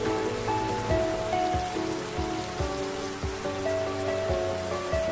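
Steady rain falls in a continuous, even wash of patter on a surface, with faint tonal sounds running underneath and no voices.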